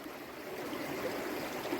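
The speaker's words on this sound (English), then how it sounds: "spring is essentially water coming up to the surface of the earth from underground." Spring water wells up from underground at a ruined spring house, a soft, continuous trickling and gurgling flow heard close by and alone, steady for the whole short stretch.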